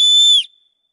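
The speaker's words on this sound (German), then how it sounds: "Nächste Funktion, die wir hier haben, ist die Signalpfeife. Wie man hört, sehr laut, sehr kräftig." A loud, piercing blast from the signal whistle on a survival armband, a single sharp tone held for under half a second before cutting off abruptly, close to the microphone.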